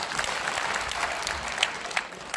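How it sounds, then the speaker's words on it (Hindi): Audience applause at a talk event about a weight-loss story, a steady dense burst of clapping held close and even for the whole stretch, with a few sharper claps standing out. "एक तालियां उनके लिए भी।"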